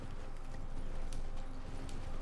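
A horse's hooves clip-clop at a steady trot in the video game Elden Ring, a continuous rhythmic patter set against low ambient game sound.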